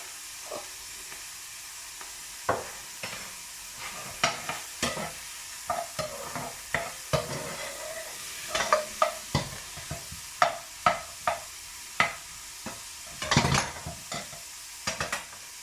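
Onions frying in a pan for a home-cooked dish, with a steady sizzle under repeated scraping and stirring strokes that come in irregular bursts, close and fairly loud, with no talk.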